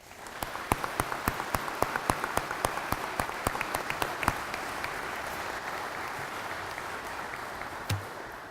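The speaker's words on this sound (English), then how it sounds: "please give a round of applause for my soldiers today" At a military brigade change of command ceremony, a few loud, rhythmic individual claps ring out first, then give way to a softer, broad wash of crowd applause that gradually settles.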